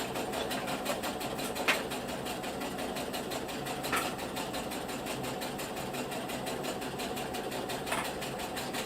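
Sewing machine stitching down both side seams of a cloth diaper, a steady fast mechanical whir running continuously with faint periodic clicks.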